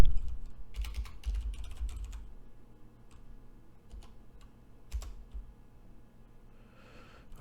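Typing on a computer keyboard during a Git command-line session: a quick burst of close key clicks, then sparser keystrokes and a final louder tap, quiet overall with no talking.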